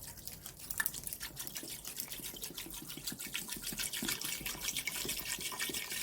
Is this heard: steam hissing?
no